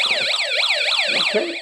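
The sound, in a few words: Snap Circuits light-triggered alarm sounding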